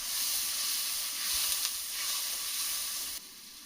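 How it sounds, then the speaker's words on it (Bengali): Spice paste with Kashmiri chilli powder sizzles in a pan after water is added for a Bengali village-style fish curry, a steady close hiss that drops slightly near the end. "জল দিয়ে দিচ্ছি মশলাটা ভাজার জন্য"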